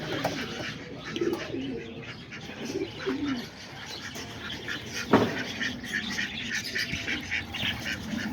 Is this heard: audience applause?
no